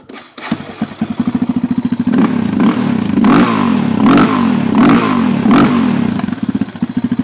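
A 2003 Yamaha Raptor 660 ATV engine cranks and catches, then chugs at a rough, slightly rich idle before revving up loudly in several repeated surges, close and unaccompanied by voices.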